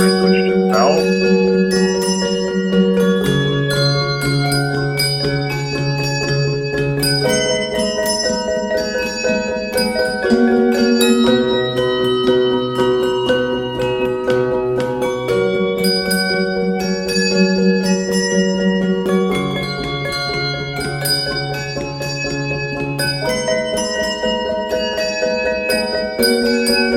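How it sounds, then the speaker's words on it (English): Bell tones ring out as melodic notes over sustained harmonic backing throughout, loud and continuous in a musical arrangement of the P.T. Barnum film soundtrack. "you hear the bigger sound, so I switch to the bells"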